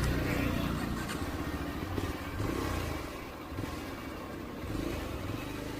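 Yezdi Adventure motorcycle, a 2024 model, riding with a steady, loud engine drone and wind rumble throughout, rising and easing slightly as it goes.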